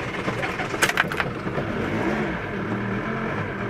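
A troubled car engine that will not start and is puffing ugly smoke churns with a rough, steady mechanical drone, broken by a few sharp clicks about a second in; no one speaks over it.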